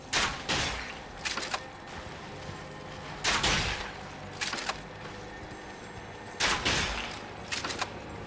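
Rapid crossbow volleys from the Barrage skill in Elden Ring, with three or four sharp clusters of quick twangs and impacts spaced a few seconds apart over a quiet game backdrop.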